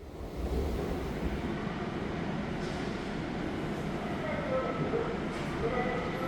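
A GTX-A deep-level subway train in Korea rumbles steadily, with a dense, continuous roar of wheels and tunnel noise at close range throughout.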